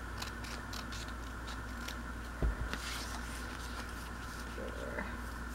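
Scissors cut a legal file folder with a single crisp snip, quiet and close over a steady low background hum.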